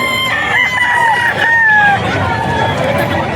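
A young rooster crows at a busy pet market, a loud, close, drawn-out call rising and then falling over a constant murmur of crowd chatter and background birds.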